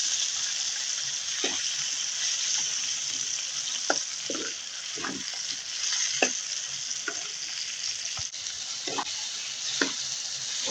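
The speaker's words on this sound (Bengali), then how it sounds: "এখন পেঁয়াজের সাথে টমেটো আমি ভেজে নেব ভালোভাবে, যাতে টমেটোগুলো ভালোভাবে সিদ্ধ হয়ে যায়।" Tomatoes and onions frying together in a pan, a steady close sizzle with regular scraping stir strokes every second or so, no voices.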